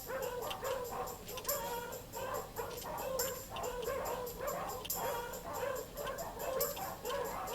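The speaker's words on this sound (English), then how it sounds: "It sounds as though there are many dogs nearby." Many dogs bark, yip and whimper inside a dog pound in an Amiga video game, a steady, crowded chorus of short repeated barks with no voices over it.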